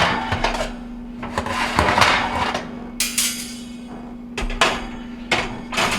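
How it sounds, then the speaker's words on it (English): Metal oven racks are slid out of a GE stove. Loud, sharp clanks and scrapes come close up in scattered bursts, over a steady low hum. "Now we can remove our oven racks."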